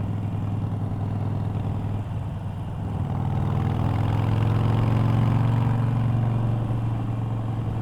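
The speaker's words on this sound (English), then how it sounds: "it's loud. I don't know how the mic's picking it up, but it sounds like a Harley." A Harley-Davidson Iron 883 motorcycle engine runs steadily and loudly at close range, a deep low throb that swells slightly midway before holding a sustained rumble.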